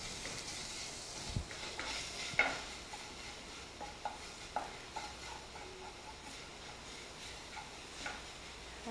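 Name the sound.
stir-frying soy-sauce-marinated meat in a pan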